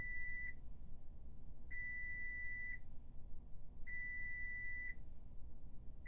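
Warning beeper in a bus in the driving simulator OMSI 2, sounding as a steady, high electronic tone in regular pulses of about a second, repeating roughly every two seconds over a low, quiet engine hum.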